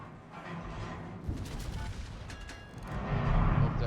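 Enemy ship secondary guns firing in the naval battle game World of Warships, a string of distant booming shots and thuds over a constant engine rumble, growing heavier toward the end.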